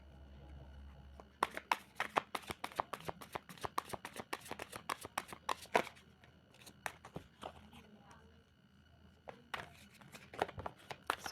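Tarot cards are shuffled by hand in quick bursts of crisp riffling clicks, close and fairly quiet, with pauses between rounds and a few scattered card snaps.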